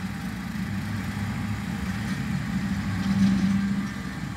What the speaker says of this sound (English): that baby's pulling a 6 foot bush hog and definitely mowing it down, making it look easy